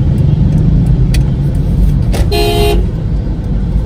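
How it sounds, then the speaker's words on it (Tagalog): A jeepney rolls by in busy street traffic in Malolos, Bulacan, its engine rumbling close and loud before a sharp, bright horn blast of about half a second rings out, then the traffic noise carries on. "Jeep na yan, no?"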